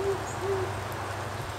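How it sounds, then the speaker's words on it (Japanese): An owl hoots twice, giving two short low hoots in quick succession over a steady ambient background, fairly clear and moderately near. "フクロウはかっこいいな。"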